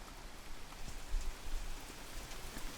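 Steady rain falling and pattering on surfaces, a soft even hiss with scattered drops, moderately close and unbroken.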